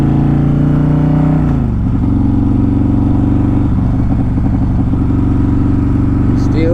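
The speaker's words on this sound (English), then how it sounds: "Still burning rubber, y'all." A built Harley-Davidson CVO motorcycle doing a burnout, its engine held at a loud, steady rev with a shift in pitch partway through as the rear tire burns rubber, close and continuous.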